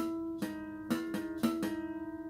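Guitar harmonics plucked four times, each pair ringing together slightly out of tune, producing a slow wavering beat as the tones clash and fade.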